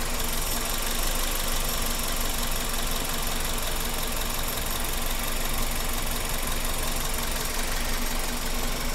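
Car engine idling steadily up close during a leak-down test for oil burning, a loud, continuous mechanical hum and rattle that holds an even level throughout.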